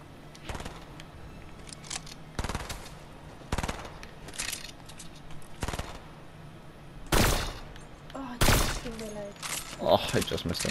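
Several short bursts of Tommy gun fire in the Fortnite video game, sharp and loud, spaced irregularly, with a player talking between and over them.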